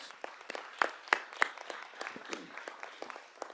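Scattered applause at a school board of education meeting, a small group clapping with sharp, distinct claps at a moderate distance.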